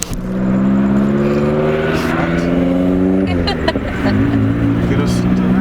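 A turbocharged 1.8 Chevy Cruze accelerates on the road, its engine droning up steadily in pitch, dropping briefly at a gear change, then climbing again, loud and close from inside the cabin.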